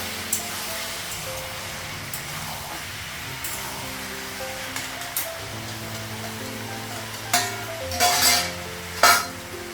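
Jackfruit sautéing in a pan for a Bengali home-cooked dish, with soft frying and stirring noise, occasional scrapes of a spatula against the pan, and a few louder clinks and scrapes near the end.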